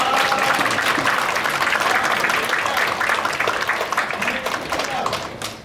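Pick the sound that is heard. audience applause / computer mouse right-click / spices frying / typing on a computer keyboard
audience applause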